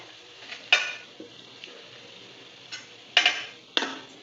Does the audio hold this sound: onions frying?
yes